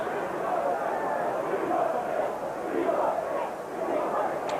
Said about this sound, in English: the Swindon Town crowd definitely want another one. They're chanting for "We want 6."